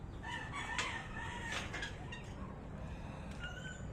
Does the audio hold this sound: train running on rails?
no